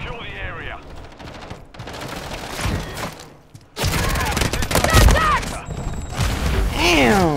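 Bursts of video game gunfire crackle through a busy firefight, with fusillades and heavier thumps rising and falling while voices talk over much of it.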